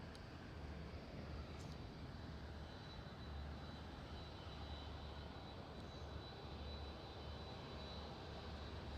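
A KLM Embraer E2 airliner taxis at Schiphol, its engines giving a steady broadband rumble and hiss throughout, moderately distant and with no talk over it.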